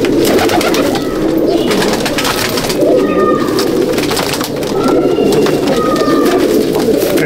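Andhra Madrasi pigeons coo continuously in a loft in Howrah. Overlapping, throaty calls from several birds fill the space loudly and close by, without pause.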